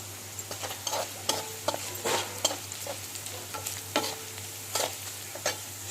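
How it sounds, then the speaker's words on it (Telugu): Oil sizzles and crackles in a pan as spices temper for a bitter gourd fry, with irregular pops and spits, steady frying close up with no voices. "చూడండి, ఇట్లా మంచిగా తాలింపు వేగిపోయిందండి."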